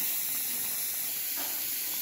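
Soybean and potato curry boiling in a pot, a soft continuous steamy hiss with faint bubbling, close but quiet and brief, with no voices.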